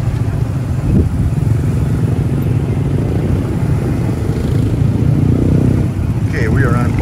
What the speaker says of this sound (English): we are on board for our final trike ride down to the port